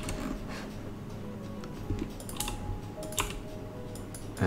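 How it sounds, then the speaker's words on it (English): Loud computer keyboard typing during photo editing: a steady stream of close, rapid key clicks with a few sharper, heavier keystrokes, no voices. "let me know if I should get a new keyboard, because I know this one is really loud"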